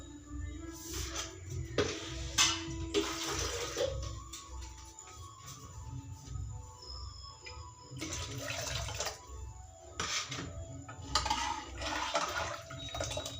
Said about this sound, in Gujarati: થોડું પાણી બીજું એડ કરીશું